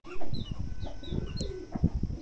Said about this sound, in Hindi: बड़े खुश ये सारे कबूतर।